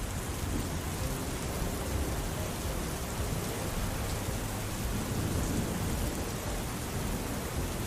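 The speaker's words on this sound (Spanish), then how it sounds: "Entonces un día, llovió." Torrential rain pours down in a steady, dense wash of noise, with low rumbling thunder rolling underneath and holding at an even loudness throughout.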